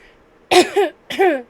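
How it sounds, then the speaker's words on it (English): Two harsh coughs, each a quick double burst, close by with a short pause between them. "Sorry, I'm coughing a lot."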